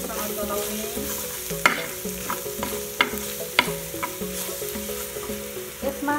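Onion and ginger-garlic paste with turmeric frying in a pan for a Nepali curry, a steady close sizzle broken by repeated scraping strokes of a spoon stirring the mixture, with no voices.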